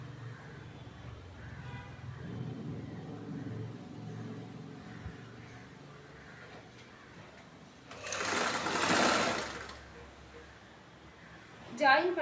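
A sewing machine stitches a triangle piece into a chudithar bottom, a low steady hum under quiet talk that swells into a louder, faster run of stitching before stopping, then a short final burst.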